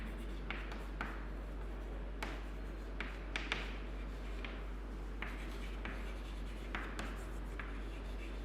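Chalk or marker scratches and taps across a board in short irregular strokes, faint and fairly close, over a steady low hum with no talking.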